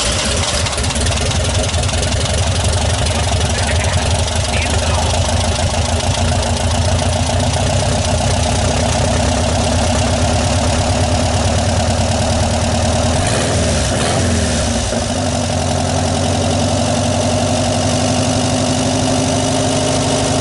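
VW 1600 engine fitted with an SVDA distributor, running continuously at a steady, loud, close idle with an even mechanical chug throughout.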